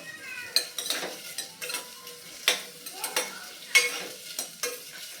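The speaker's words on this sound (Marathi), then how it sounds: "त्यामध्ये हा आपण कट केलेला दुधी घालून घ्यायचं आहे एक दोन मिनिट परतवून घ्यायचं आहे" Chopped bottle gourd is stirred in hot oil in a pan, with a soft sizzle under repeated clattering scrapes from a spoon against the pan.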